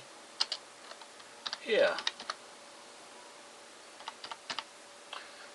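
Typing on a computer keyboard, with scattered clicks and short bursts of keystrokes, close and fairly quiet, and a brief spoken word partway through.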